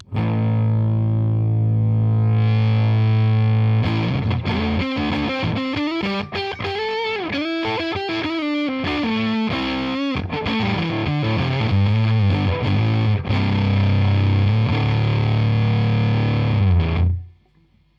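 Electric guitar through a Fuzz Face style fuzz pedal, thick and buzzy, playing sustained chords and busy riffs, loud throughout before cutting off abruptly near the end.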